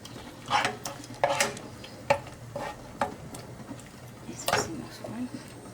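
Bolognese sauce for a stovetop lasagna being spooned and stirred into a frying pan, soft scraping and wet splats at intervals, with a person talking over it.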